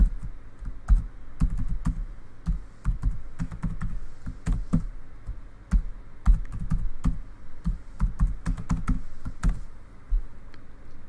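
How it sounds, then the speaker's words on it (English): A computer keyboard is typed on steadily at close range while entering a password, giving a long run of quick, uneven key clicks and taps with brief pauses and no speech. "Enter the current password that he uses in Portal. And new password that he wants to enter for OneClick"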